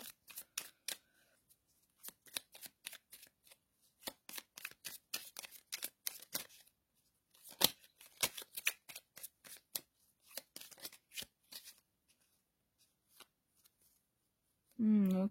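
Tarot cards shuffled and handled to draw a card, heard as a long series of crisp riffling snaps and flicks in close, irregular bursts, ending with a brief low hum.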